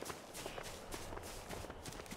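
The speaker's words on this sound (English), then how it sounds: "I'm hearing footsteps." Quick footsteps from a player in Fortnite patter in a fast, even rhythm across the whole stretch, close and moderately loud, with no speech over them.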